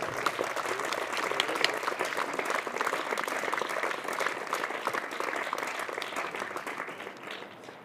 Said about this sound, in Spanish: Un forte aplauso para ela de novo, por favor.